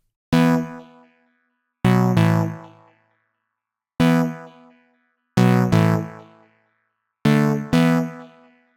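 Five separate stabs of a Chord fifter synth chord preset for house music, inspired by a producer. Each is a bright, harmonically rich chord hit with a quick decay, spaced roughly every one and a half seconds. The stabs are fairly loud and play alone with no voices.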